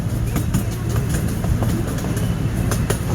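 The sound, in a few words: amusement park train ride at Knoebels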